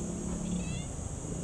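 A street cat in Ayala Triangle Park, Manila, gives one short, faint meow over steady outdoor city hum.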